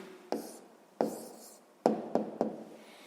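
Someone writes the answer to a sixth-grade math problem by hand. Faint, quiet pen strokes land on paper as a handful of separate scratches and taps at an uneven pace.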